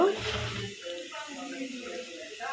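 A cup of water is poured into a cooking pot with spices, a brief splashing pour at the start that gives way to a voice talking over quieter background sounds.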